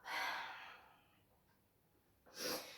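Breath exhaled during a yoga camel sequence: a close, soft airy exhale, then a quiet pause and a second breath near the end.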